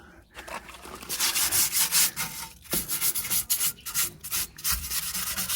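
A car wheel is rubbed by hand with sandpaper in quick, uneven back-and-forth strokes that make a close, dry scratchy rasp with short pauses between bursts.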